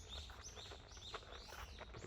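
Small birds chirp and tweet repeatedly in short bright calls along a walk home in Japan, moderately close over a steady low outdoor rumble, with no talking.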